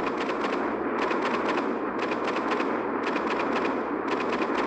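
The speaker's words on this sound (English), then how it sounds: "Just launch a lot of rockets." Rockets launching in the Solar Smash mobile game as a loud, continuous mechanical barrage of rapid firing bursts, pulsing roughly once a second with short gaps between volleys, with no voices.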